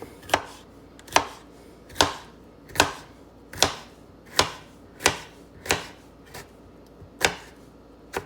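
A knife chops through a bell pepper on a cutting board, ten or so crisp, evenly spaced strokes about once per second, close and clear with no talking.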